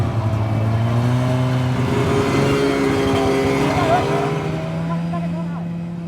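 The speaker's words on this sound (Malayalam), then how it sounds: "കുട്ടികളും ആവേശത്തോടെയാണ് സ്നോ ബൈക്കുകളിലെ യാത്ര ആസ്വദിക്കുന്നത്." Snow bikes carry riders across the snow at Kongthur, their engines humming and revving with a shifting pitch under a steady background wash that may hold faint voices.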